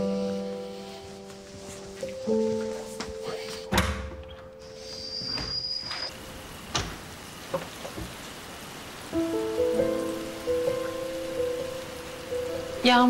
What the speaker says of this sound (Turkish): Yağmur başladı tekrar.